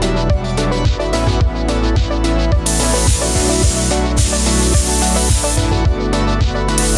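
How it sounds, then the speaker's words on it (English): Bursts of airy spray hiss from a spray gun applying PVA release agent onto a styrofoam wing, first lasting a second or two and later steadier, sitting beneath loud rhythmic background music. "spraying 2 very light coats on top of the wing, followed by 2 heavier coats"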